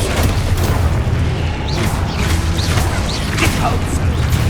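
The Expulso explosion spell in Hogwarts Legacy booms loudly and continuously, a thick rumbling blast with crackling bursts layered over it and no quiet gaps.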